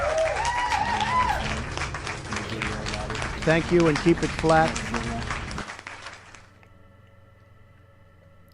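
A crowd applauds in a broad, dense wash for several seconds while someone talks over it, then the clapping cuts off and quiet talk continues.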